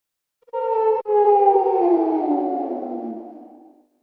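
A wolf gives one long howl that starts strong, breaks briefly, then slides slowly downward and fades out over about three seconds, heard alone.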